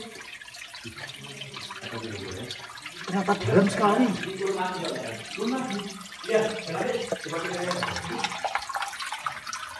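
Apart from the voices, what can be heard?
underground river flowing and babbling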